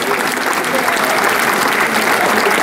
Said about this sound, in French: je vais vous demander de l'applaudir